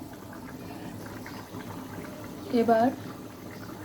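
Chicken gizzard and liver curry broth simmers in a covered pot, a steady low bubbling hiss that runs throughout while a voice speaks briefly near the end.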